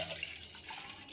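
Water pouring into a ground pani puri spice mix, a steady wash of splashing liquid heard close and alone for about a second.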